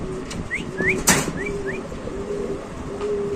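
Pigeons coo softly in low, drawn-out tones while a few bright chirps and one sharp burst cut in over a steady background hum.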